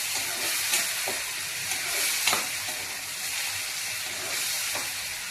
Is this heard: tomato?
yes